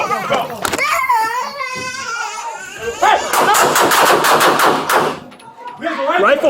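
Rapid bursts of gunfire during a police officer-involved shooting at a residence, loud close volleys cutting through shouting voices before and after.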